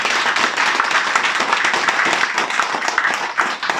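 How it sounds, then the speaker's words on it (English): Dense crowd applause at a leadership training session, many hands clapping together in a steady, loud wash that holds for the whole stretch without a break. "Clap your hands."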